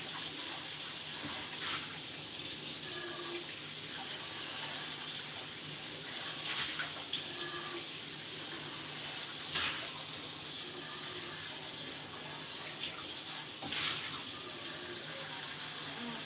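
Water runs from a tap into a bowl to fill a pet's drinking water, a steady hiss with faint clinks and small shifts in flow, alone and fairly quiet.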